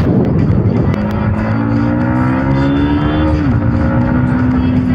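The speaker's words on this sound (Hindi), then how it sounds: "जब सेकेंड गियर से भाई थर्ड गियर में जाते हैं तो भाई खतरनाक वाला साउंड निकलता है" A motorbike engine roars loud and steady with a rising harmonic whine that dips and resettles as it shifts from second into third gear, riding through flooded streets in Bihar.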